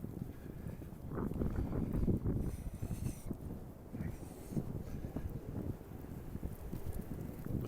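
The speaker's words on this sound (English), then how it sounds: "Listen to the wind blow." Wind blows outdoors on a snowy November walk in Regina, a steady low rumbling gust buffeting the microphone throughout, with faint crunching footsteps beneath.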